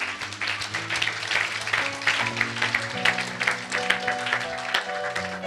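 A church congregation applauds and cheers in a sustained burst of clapping, steady and dense, with voices calling out over it and musical tones beneath.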